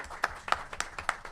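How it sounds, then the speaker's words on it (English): A few sparse, separate claps ring out from an audience greeting an incoming president at an old boys' society annual general meeting, faint and brief with no clear cheering. "Let's have a loud cheer for him."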